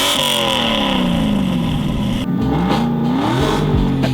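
A car engine revs hard with a raspy, rising exhaust note, climbing in pitch, then dropping and climbing again through several gear-like steps, loud and close throughout.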